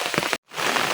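Heavy rain pours down during a flash flood, a dense, loud hiss of water. It cuts out abruptly for a moment, then returns.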